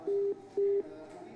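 Two flat electronic beeps of a disconnected phone call tone, the second shorter, over faint background hiss, with no voices.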